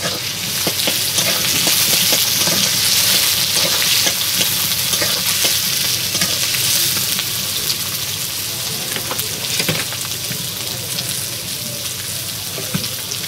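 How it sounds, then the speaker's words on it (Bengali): Onions fry in a pan with a loud, steady sizzle and crackle that fills the whole stretch, along with occasional stirring scrapes and no voices. "পেঁয়াজটা এবার ভেজে নেব"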